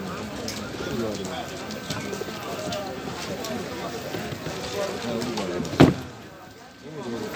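Sabuni-breed pigeons coo at an outdoor bird market, soft repeated calls mixed with crowd murmur and people talking nearby, with one sharp clatter partway through.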